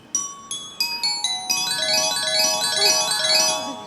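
A small handheld synthesizer set to a marimba voice plays a few separate struck notes, then a quicker run of bright, ringing mallet-like tones, clear and close.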